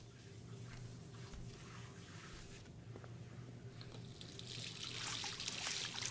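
Running water trickles and splashes in the Life Is Strange game, a soft steady flow under low ambient hum that grows brighter and louder toward the end.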